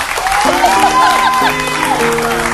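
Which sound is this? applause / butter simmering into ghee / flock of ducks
applause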